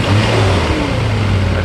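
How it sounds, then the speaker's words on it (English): A Mercedes SL R129 engine, just fitted with repaired throttle bodies, revs under the hood, a loud, close, continuous low drone rising and holding steady. "Let me just accelerate under the hood real quick so you can actually see it."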